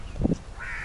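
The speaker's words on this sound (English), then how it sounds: "there are birds here. You hear those birds?" Birds call outdoors at a resort in Kenya, with two short crow-like caws in quick succession followed by a thinner, higher call, all fairly faint against steady background ambience.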